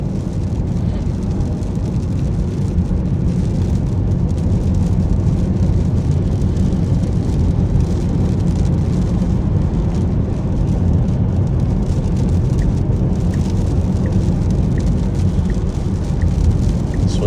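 Rain heard from inside a Tesla Model S Plaid on the highway: a constant, loud wash of tire and road spray noise with a low rumble, steady for the whole stretch.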